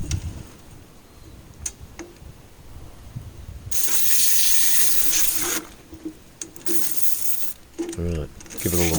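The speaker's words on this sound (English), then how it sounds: "Right, give it a little rinse off." Water sprays onto a Land Rover Series 3 engine part to rinse it, a loud hissing gush lasting a couple of seconds. Scattered clinks and more bursts of running water follow.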